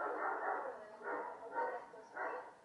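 A dog barks four times at a steady pace, each bark a short burst separated by brief pauses. The barking sounds faint and fairly distant, with no voices.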